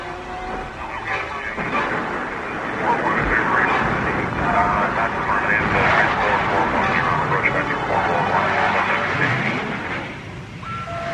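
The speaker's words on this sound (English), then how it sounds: "Scramble all Stargazer fighters immediately." Launch of Stargazer interceptor fighter spacecraft in a science-fiction radio drama, heard as a loud, sustained roaring engine rush with rumble that swells and holds across the clip before easing at the end.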